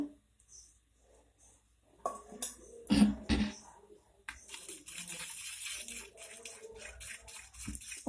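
Water poured from a spoon into oil in a bowl while preparing chakuli pitha batter in a home kitchen, a short splashy trickle followed by ongoing sloshing and mixing.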